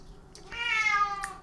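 A single cat meows once in a clear, drawn-out call at close range, followed by a brief softer sound, with no talking.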